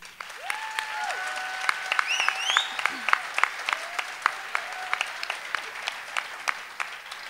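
A crowd applauds the outgoing pubilla at a Festa Major proclamation event in Riba-roja d'Ebre, steady clapping with scattered sharper claps, a few voices and whistle-like cheers rising over it.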